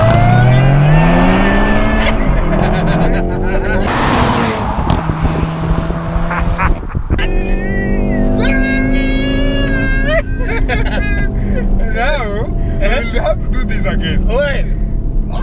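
A Volkswagen Golf R Wagon in race mode launches and accelerates hard, its engine rising and shifting through gears under loud, excited talk from the occupants.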